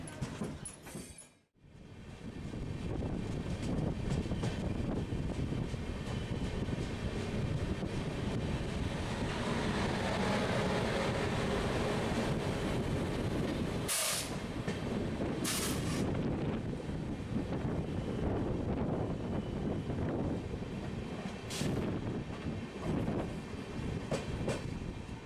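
Onboard the Pratham Swatantrata Sangram Express between Kolkata and Naihati on the Sealdah main line: a steady, loud rail rumble mixed with wind noise, with a brief drop near the start and a few sharp clanks midway.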